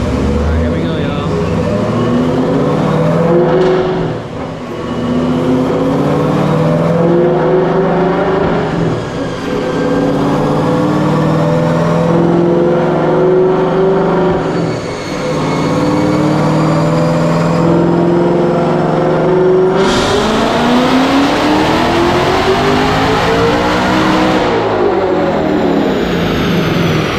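A Whipple-supercharged Ford Mustang Dark Horse with a manual gearbox roars loudly up through the revs, dropping briefly at gear shifts before surging again, with a harsh climbing rev near the end, recorded close and overwhelming.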